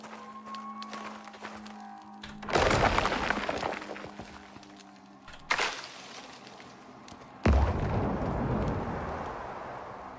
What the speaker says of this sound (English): That exploding noise.